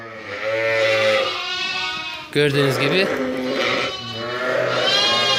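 Kangal Akkaraman ewes and their twin lambs bleat close by, with long wavering calls repeating through the stretch while someone speaks briefly in the middle.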